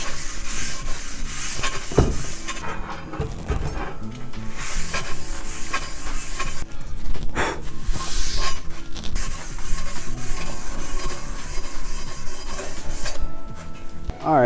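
Aluminium being scuffed by hand with a 3M Scotch-Brite pad to remove surface oxide before TIG welding, a steady close rasping rub running nearly the whole time with brief pauses.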